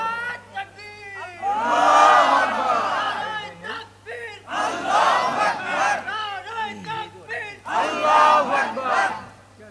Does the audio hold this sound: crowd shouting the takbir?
yes